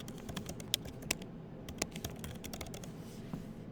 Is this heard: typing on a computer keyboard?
yes